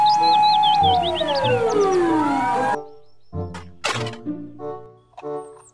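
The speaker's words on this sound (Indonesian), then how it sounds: "Mobil truk pemadam" A toy fire truck's electronic siren sounds a rapid warbling wail with a descending sweep for under three seconds, then stops, followed by a few short clunks and toy beeps.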